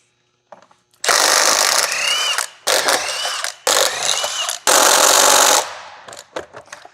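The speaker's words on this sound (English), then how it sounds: "For tools, we're using the old Milwaukee 3/8 drive." An old Milwaukee 3/8-inch drive ratchet with a chrome socket loosens tight wheel bolts on a 2000 Dodge Ram 2500 Cummins, sounding as loud, rapid clicking bursts separated by short pauses, close up.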